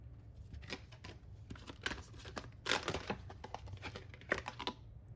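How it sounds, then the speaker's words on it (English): Tarot cards being shuffled by hand, a run of crisp papery riffles and taps close up, loudest around the middle and near the end, with no talking. "Now let's shuffle some more."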